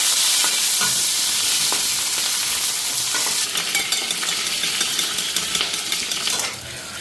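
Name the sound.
onion frying and being stirred in a pan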